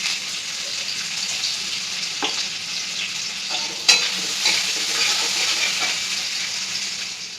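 Onion frying in oil in a kadhai gives a steady close sizzle throughout, with occasional stirring scrapes and a sharper clink near the middle.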